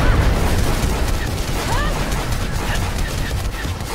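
A rocket explodes during a Final Fantasy XV battle in a loud, dense roar of blasts and crackling debris that fills the whole stretch, with someone talking over the din.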